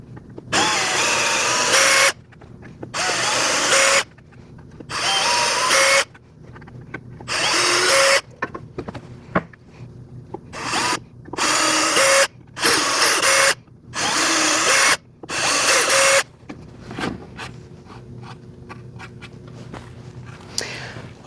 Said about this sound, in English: now I'm going to do my 3/16 drill bit from top to bottom